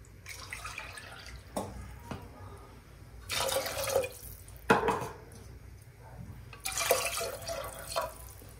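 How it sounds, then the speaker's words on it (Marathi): Water poured from a small vessel into chickpea curry in a pot, heard as a few splashing, gurgling surges between quiet stretches, with faint knocks of the vessel; close but soft. "मी साधारण 1 तांब्या घालणार आहे पाणी"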